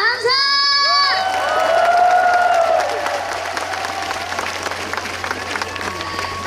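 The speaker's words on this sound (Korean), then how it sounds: "지금 날씨가 조금 더우니까 박수와 함성 한번 보내주실 수 있으시겠어요?" Outdoor audience at a temple music concert on Juwangsan mountain in Cheongsong claps and cheers loudly, with a few whoops over steady applause that holds through the whole stretch and eases slightly near the end.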